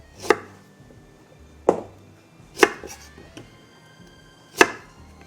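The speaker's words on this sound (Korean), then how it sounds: "다음으로 재빠르게 이 끄트머리 부분만 칼을 이용해서 잘라주세요." A knife chops through the tip of a burdock root on a cutting board, four sharp, separate strikes spaced about a second apart, close and clear with no talking.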